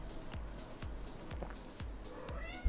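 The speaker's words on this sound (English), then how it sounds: "once the cat comes here, it just does not stop. It's going to non-stop want attention now." Cat meowing repeatedly for attention indoors, several short calls spaced about half a second apart, close and fairly clear against a low steady fan hum.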